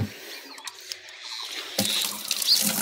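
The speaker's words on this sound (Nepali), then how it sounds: "यहीँ माथि पानी थापो, अनि फिल्टरमा हाल्यो" Water from a tap pours into a filter, starting with a few clatters and drips and then swelling into a loud, close rush of running water over the second half.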